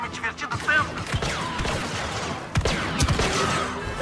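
Rapid electronic blaster shots from Star Wars: Battlefront II crackle in bursts amid busy game sound effects, with a voice talking over parts of the action.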